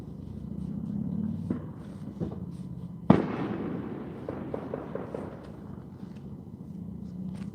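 A single sharp crack rings out across the water at night near a carp fishing spot, followed by a rolling echo that fades against a low background hum.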